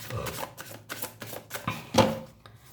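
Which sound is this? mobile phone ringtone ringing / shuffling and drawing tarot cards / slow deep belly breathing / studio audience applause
shuffling and drawing tarot cards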